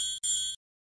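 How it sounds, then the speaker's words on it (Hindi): An electric bell sealed inside an airtight glass jar hooked to a vacuum pump rings in two close bursts of bright, sustained metallic tone, a brief gap between them, then stops abruptly into silence. "जैसे ही विद्युत घंटी का परिपथ पूर्ण होता है, ध्वनि सुनाई पड़ती है।"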